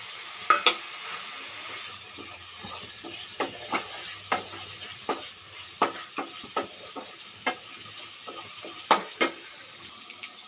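Tomatoes frying in a pan for chicken gravy, a low steady sizzle broken by repeated sharp scraping taps of a utensil stirring against the pan, spaced about every half second to second.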